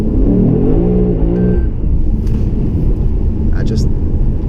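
A Lexus RC F engine in first gear with traction control off revs hard toward its limit. The steady, loud in-cabin roar of engine and road noise runs throughout the clip, with rising harmonic whine early on and someone talking over it.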